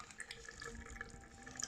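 Water runs from a faulty household tap that will not shut off, a thin steady trickle with small drips and splashes in a sink, fairly close and fairly quiet.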